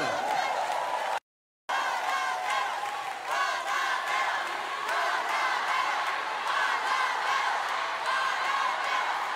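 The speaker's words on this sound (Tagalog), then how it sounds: "Palakpak naman dyan." A crowd at a political proclamation rally applauds and cheers, loud and continuous with a dense wash of voices and shouts, broken by a brief silent gap near the start.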